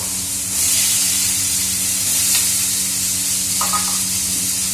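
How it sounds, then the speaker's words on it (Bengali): Steady loud sizzling hiss of bottle gourd frying in a hot pan, continuous throughout with a faint clink near the end. "একটু ভাজা ভাজা হোক"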